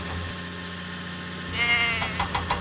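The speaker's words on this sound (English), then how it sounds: "Diesel must deliver the goats to Farmer McCall's farm" Goats bleat in a Thomas & Friends video game, a couple of short nasal cries near the end over a low engine-like hum.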